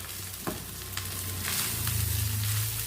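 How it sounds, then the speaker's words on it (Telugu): Fried rice is stirred in a pan over a low flame, a soft steady sizzle with scraping and spatula clinks, fairly quiet and close, without speech. "లో ఫ్లేమ్లో పెట్టుకొని కొద్దిగా రైస్ ఒకేసారి యాడ్ చేసుకోకుండా కొద్దిగా యాడ్ చేసుకొని మనం ఈ విధంగా కలుపుకుంటూ ఉండాలి."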